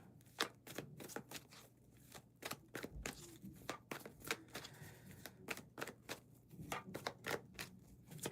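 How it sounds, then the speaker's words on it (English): A deck of cards being shuffled up close, quick papery riffles and flicks in repeated bursts with short pauses between, fairly soft and with no talking. "I feel like it's been so long since I shuffled these cards"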